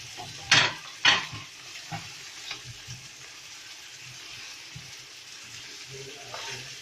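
Chopped tomatoes tossed into a pan of chicken karahi masala, giving sharp clattering stirs near the start, then a steady soft sizzle and fry with scattered utensil scrapes against the pan, heard up close.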